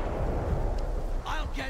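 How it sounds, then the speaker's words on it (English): A grenade explodes in the shooter game Stalker 2 as a deep, rumbling boom that rolls on for about a second, followed by a brief burst of in-game voice. "Another grenade."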